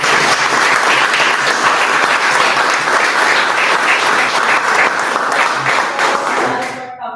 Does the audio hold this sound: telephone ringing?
no